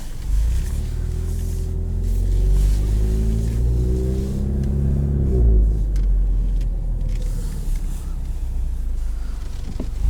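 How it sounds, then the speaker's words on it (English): A 2020 Ford Mustang EcoBoost with the factory performance exhaust rumbles loudly as revs climb and fall, a deep throaty drone heard from inside the car that settles into a lower, rougher burble. "This one, as a factory exhaust system, is pretty loud."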